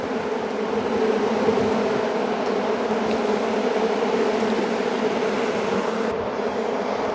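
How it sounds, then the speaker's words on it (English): A packed honey bee colony buzzing inside an open hive full of brood frames: a constant, close, loud droning hum with no pauses and no voices. "there's a lot of bees in here"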